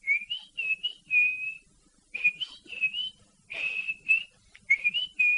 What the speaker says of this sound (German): Als Papa Pauli wieder sein mittlerweile etwas ärgerliches Lied pfiff, pfiff der Karton zurück